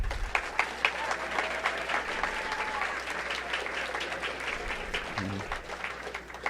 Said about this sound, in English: so a big round of applause to them at this time